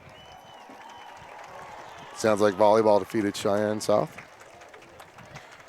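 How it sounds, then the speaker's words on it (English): A steady wash of crowd applause from fans in the stands at a high school football game between Cheyenne South and Cheyenne East, heard from a distance while someone speaks over it. "how about a round of applause for the volleyball team?"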